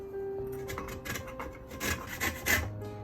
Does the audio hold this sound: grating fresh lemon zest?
yes